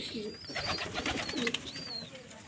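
Pigeons cooing close by in a backyard loft, several soft repeated rolling coos over low ambient noise.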